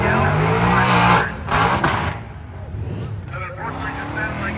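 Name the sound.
1966 Ford Galaxie 500 drag racing launch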